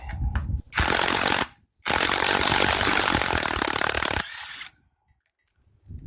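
A socket wrench works on a very tight bolt on a Peugeot 504 XD2 diesel engine, producing loud, harsh bursts of grinding, rattling mechanical noise separated by short silences.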